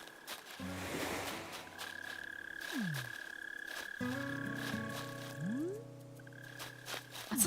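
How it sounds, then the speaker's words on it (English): A mole cricket chirps from underground in the Animal Crossing video game, giving a repeated low croaking buzz over soft game music and chimes. "I can hear a cricket nearby."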